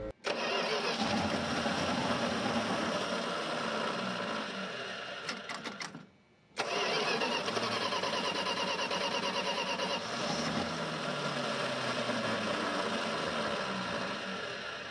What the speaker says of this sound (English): Oh, come on, little gear reduction starter.